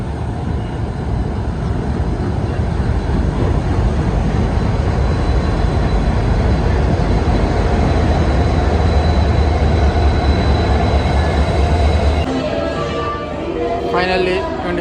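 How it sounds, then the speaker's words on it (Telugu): The Tungabhadra Express rolls into Kacheguda platform 2 with a loud, steady rumble of wheels and carriages that holds for most of the run, then eases off near the end as the train slows. "Entering Kachiguda platform 2."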